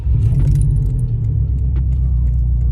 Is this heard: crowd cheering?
no